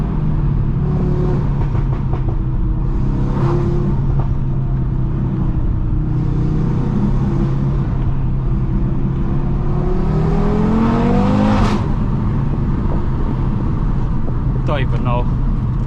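An Audi RS3 tuned to 570 horsepower rumbles loudly from its exhaust under a constant close engine drone, with a rising revving sweep near the end and a few crackling overrun pops.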